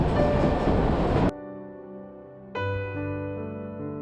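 The White Pass and Yukon Route narrow-gauge railway, built in 1898, near Skagway, Alaska: a loud broadband rumble cuts off abruptly and gives way to a sustained, multi-toned horn-like chord.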